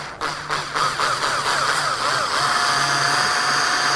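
A power drill whines steadily at close range, its pitch wavering and dipping as the bit drills out the head of a metal rivet during car door removal, with a low hum underneath.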